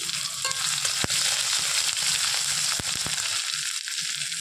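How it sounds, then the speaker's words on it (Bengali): Chopped green chili and ginger fry in oil in a pan, giving a loud, steady sizzle and crackle close by, with a few sharp spatula knocks against the pan. "এই যে এর মধ্যে একটু লঙ্কা কুচি দিয়ে দিচ্ছি,"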